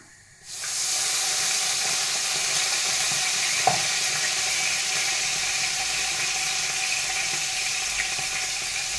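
White wine hits a hot pan for pasta all'amatriciana, erupting into a loud, steady sizzle and hiss that holds unbroken for several seconds, with one faint clink partway through.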